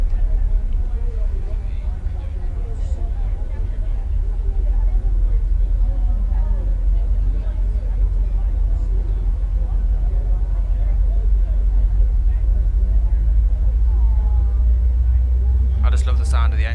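Boeing 737 jet engines in a PMDG flight simulator spooling back up, a steady loud low roar with broadband rumble throughout, rising slightly near the end.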